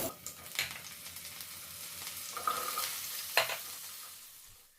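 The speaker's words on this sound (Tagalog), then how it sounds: "So, prito muna natin ng ang patatas saka carrots." Potatoes and carrots sizzle and crackle frying in hot oil, with occasional stirring clatter and scraping of a utensil in the pan, close by.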